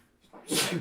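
A single short sneeze, close and fairly loud, bursting out abruptly after a brief quiet intake.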